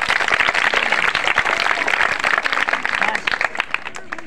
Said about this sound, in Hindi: ताली को बजाओ ताली